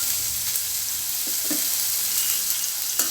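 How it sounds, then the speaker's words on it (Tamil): Small onions and a green chili sautéing in a pan for village-style shark puttu, a steady soft sizzle with a few faint utensil taps, close by and without speech. "கொஞ்சம் நேரம் நம்ம நல்லா வதக்கிடுவோம் இந்த வெங்காயத்தை."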